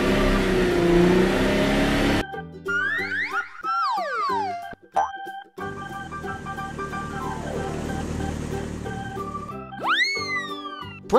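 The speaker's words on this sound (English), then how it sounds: "Purple car." A toy car makes playful cartoonish engine revs and springy boing-like effects in quick bursts, with rising and falling whirring tones and short pauses between them.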